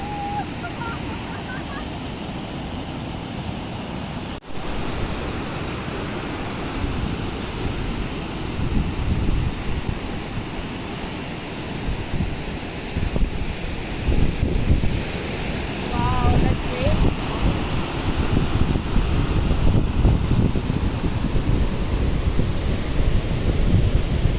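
Wind rushes steadily over a microphone by the sea at Honnavar, Karnataka, with surf rumbling underneath and growing stronger toward the end; a few faint bird calls.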